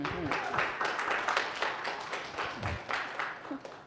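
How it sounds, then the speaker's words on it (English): Audience applause at a Leaders of Color Collective gathering, a steady patter of many hands clapping at moderate volume, with voices mixed in throughout. "Round of applause for those two back there."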